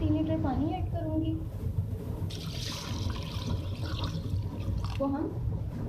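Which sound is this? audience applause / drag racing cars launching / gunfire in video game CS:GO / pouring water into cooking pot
pouring water into cooking pot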